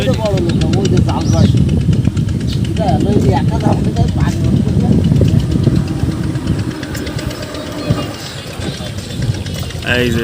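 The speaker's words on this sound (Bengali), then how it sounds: "কাকা দেখেন কি সুন্দর করে নৌকা চালাচ্ছে" A motor boat's steady engine drones throughout at close range on a village wetland lake, with voices talking over it and faint splashing in the background.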